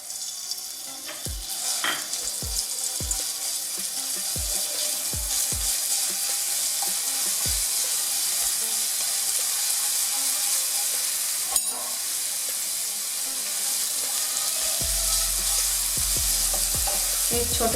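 Garlic paste sizzles steadily in olive oil in a pan, a constant bright frying hiss with a few soft stirring clicks and scrapes near the start, close and continuous.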